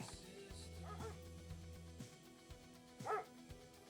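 Pack of feral dogs in a video game barking and yipping in scattered bursts, with whimpers and one sharp louder yelp near the end, fairly faint against a low steady hum.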